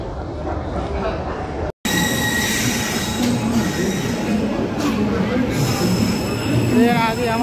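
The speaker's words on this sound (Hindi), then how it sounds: "और भाई तो गाइस हमारी ट्रेन आ गई, ये देखिए हमारे पीछे ट्रेन।" Train pulling into an Indian railway station, steady rumble with high metallic wheel squeal and whistling tones, loud and close, with people talking over it.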